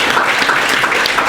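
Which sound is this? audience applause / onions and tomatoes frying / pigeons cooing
audience applause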